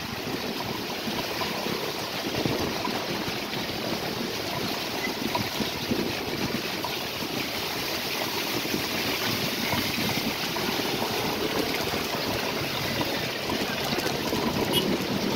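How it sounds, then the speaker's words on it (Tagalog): Strong wind roars steadily with dense, broadband rushing noise, gusting and buffeting close to the microphone throughout, with no voices. "Lakas ang hangin."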